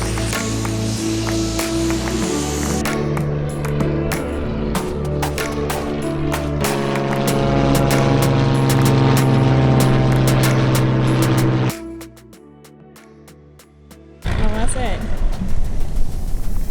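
A small propeller airplane's engine drones steadily and loudly with a strong buzzing hum for about twelve seconds, then cuts to a quieter lull before a rougher burst of engine or wind noise returns.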